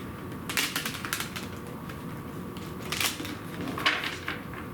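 Brisk bursts of tarot cards riffling and snapping together, a few quick shuffles separated by short pauses, close and clear.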